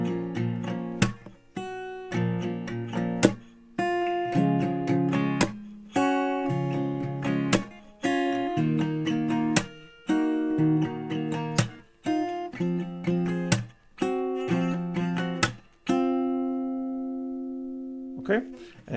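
Close acoustic guitar mixing strummed chords with a picked melody from a song's riff, a steady rhythmic pattern of bright strums and sustained notes ending on a long ringing chord.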